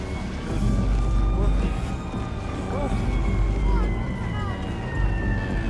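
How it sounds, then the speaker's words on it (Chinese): A police siren wails in a scene from the crime drama Fargo, rising and falling under a continuous narrating voice over a low rumble. "儿子听到警笛声"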